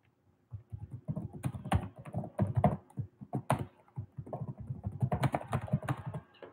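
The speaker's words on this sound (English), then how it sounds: "Oh, I didn't realize I can type things." Quick, uneven bursts of clicking keys on a computer keyboard tap out close and clear against a quiet background, with short pauses between flurries of typing.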